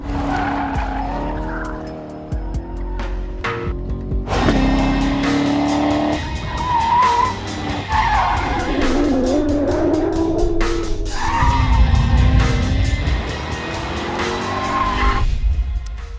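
A 2014 Chevrolet Corvette Stingray C7 Z51 sliding around a figure-8 test course, its engine roaring loudly while the tires squeal in long wavering howls that rise and fall as the car drifts, continuous and close.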